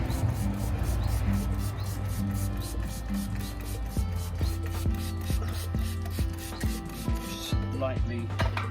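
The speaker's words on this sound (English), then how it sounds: "Lightly sand her down." Fine-grit paper rubs by hand over the rust-repaired bodywork of a Mercedes ML55 AMG in quick repeated back-and-forth strokes, close and steady, with faint talk in the background.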